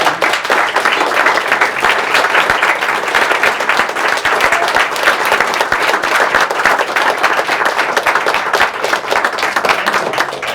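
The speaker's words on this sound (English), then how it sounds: "We'll get more of an opportunity to applaud a little later also" A live audience claps steadily and loudly, filling the hall for the whole stretch without a break, at a talk hosted by LA Skywatch.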